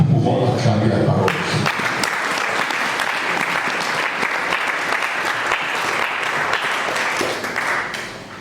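A church congregation bursts into loud, sustained applause close by after a scripture reading, with a voice heard at the start before the clapping fills the room.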